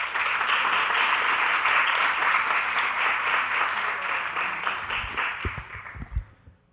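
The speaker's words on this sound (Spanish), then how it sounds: "Aplausos, por favor." A crowd claps at the opening of a university communication faculty event. The dense applause is loud and sustained, then thins and fades into a few scattered claps and thumps at the end.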